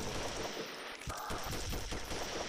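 Rapid gunfire from a zombie horror mobile video game, with dense bursts of automatic shots rattling continuously at close, even loudness across the whole short stretch.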